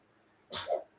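One short, sharp sneeze, a sudden burst of breath ending in a voiced snap, close by in an otherwise quiet room.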